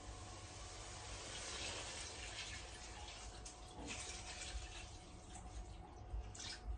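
Tap water pouring steadily into a cooking pot to boil fish for a Filipino dish, a continuous close hiss and splash that holds at an even level throughout with no talk.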